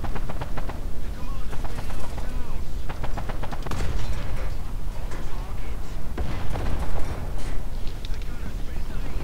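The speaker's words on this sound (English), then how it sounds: "Damn, who's shooting at me?" Gunfire hammers at a Cromwell tank in War Thunder, dense machine-gun rattles and heavier cannon thumps in continuous loud bursts with battle din, while someone talks over them.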